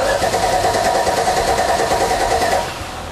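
A high-compression engine in a 40 Series 4WD cranks and fires, settling into a loud, rough, steady run close by that eases off slightly at the end, with no talking.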